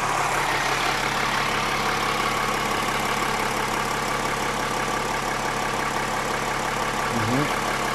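A Mercedes engine, the car fitted with a 9G-Tronic nine-speed automatic, idles steadily at close range with a constant low hum throughout.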